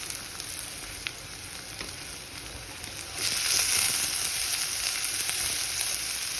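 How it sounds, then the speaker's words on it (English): Finely chopped onion fries in a pan for stuffed brinjals with shrimp, a steady close sizzle that swells louder partway through as stirring stirs up the hiss. "Fry until translucent"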